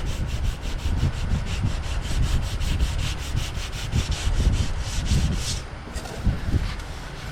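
Sandpaper, 180 grit, rubbed over body filler on car bodywork, a steady rhythmic back-and-forth scratching of quick repeated strokes, close and fairly loud, with no one talking.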